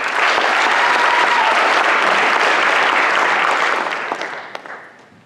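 Sustained audience applause at a school monogram awards ceremony for varsity athletes, a dense continuous wash of clapping from a large crowd that holds steady, then fades out over the last second.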